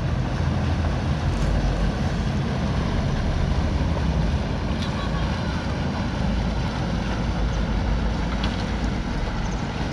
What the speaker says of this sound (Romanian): bărcuța acum accelerează, uite, vezi, ca să treacă repede